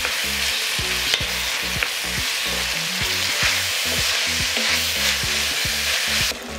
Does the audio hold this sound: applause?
no